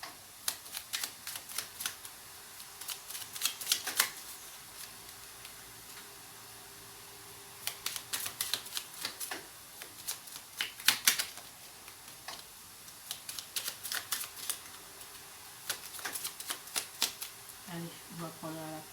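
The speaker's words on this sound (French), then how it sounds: "Je vais vous tirer 3 cartes." Tarot cards shuffled by hand in bursts of rapid crisp clicking and flicking, close and fairly quiet, with pauses between rounds and a person speaking briefly near the end.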